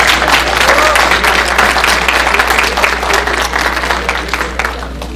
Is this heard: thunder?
no